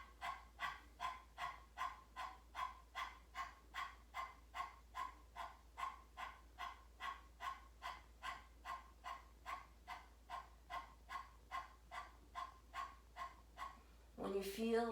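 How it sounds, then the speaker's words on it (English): Rapid, rhythmic panting breaths from a person doing breath-of-fire yoga with the tongue out like a dog, about two breaths per second in a steady even series, close and clear, with a brief voice at the end. "you're going to pant like a dog"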